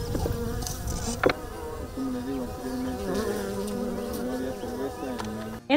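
Bees buzz steadily and close as a maguey plant is opened during pulque production in Puebla, a droning hum with shifting pitch and a few louder passes near the microphone.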